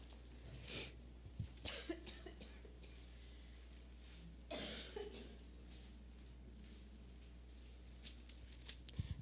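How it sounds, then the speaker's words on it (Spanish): A preacher coughs during a sermon on the Gospel of Mark, with two distinct, fairly sharp coughs and a few smaller throat noises against a quiet, low room hum. "Perdón por la tosedera."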